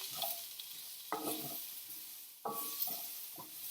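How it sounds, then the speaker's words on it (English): Browning potatoes sizzle gently in a pan while a utensil stirs them in a few distinct scraping swirls, close up over a soft steady fry, no speech. "Let's just take another swirl at these potatoes. They are browning nicely."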